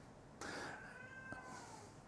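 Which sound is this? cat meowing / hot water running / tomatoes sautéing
cat meowing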